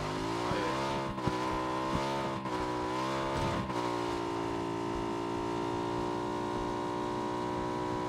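Motorcycle engine in PUBG droning steadily with a constant tone, briefly shifting pitch a few times early on before holding a smooth, continuous hum; no talking.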